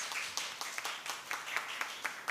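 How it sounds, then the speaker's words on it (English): A small audience claps for the competing Statistical Institute of Jamaica and Judiciary of Jamaica teams, with faint, sparse applause where individual hand claps stand out in a loose, uneven rhythm. "give them another round of applause for me, please"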